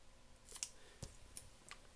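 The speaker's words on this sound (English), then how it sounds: "Get my scissors. I'm going to trim it off." Scissors snip through tape while trimming a DIY iPhone steadycam stabilizer, a few sharp close clicks and cuts spaced over two seconds in a quiet room.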